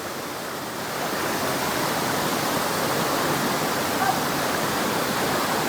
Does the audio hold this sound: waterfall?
yes